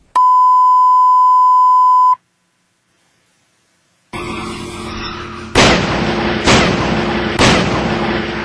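A steady electronic beep, a pause, then a hail cannon fires three loud booming blasts about a second apart over a rushing roar.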